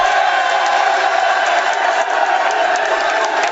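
A large outdoor crowd at a live sports TV show in Bryant Park during Super Bowl week cheers and roars continuously, loud and steady throughout.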